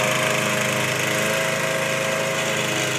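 A lawn mower engine runs loud and close with a continuous buzzing drone. It holds a steady pitch and volume throughout, with no talk.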